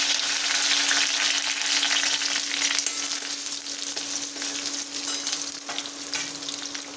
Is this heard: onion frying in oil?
yes